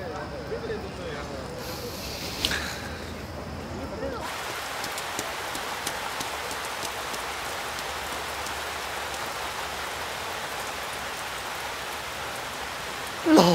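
Rain falls steadily and evenly, a dense close hiss that fills the scene. Muffled sounds come at the start, then the downpour runs on alone.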